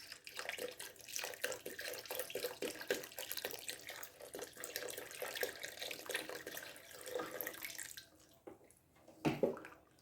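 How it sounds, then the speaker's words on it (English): Broth pours from cartons into a pot of Louisiana seafood gumbo, an uneven liquid glugging and splashing that runs for several seconds, fairly quiet, then tapers off with a couple of louder clunks near the end. "start using some of the broth from the cartons"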